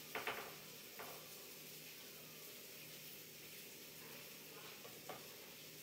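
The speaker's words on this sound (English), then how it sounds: "If you can hear that sizzle, that's a sizzle." Salmon fillets with a dry rub sizzle steadily in olive oil in a copper pan, a soft continuous frying hiss with a few brief clatters near the start and once more later, heard alone without talk.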